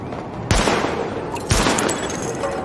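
Sidearm gunfire in The Division tutorial range, shots aimed at highlighted targets: a few sharp reports spaced about a second apart over a steady background of game ambience.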